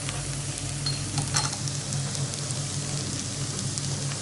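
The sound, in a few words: stirring cooked rice in a pot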